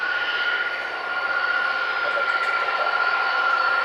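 A Virgin Atlantic Airbus A330 named 'Honkytonk Woman' takes off from Manchester Airport, its jet engines producing a steady, loud, broadband roar with a sustained whining tone throughout.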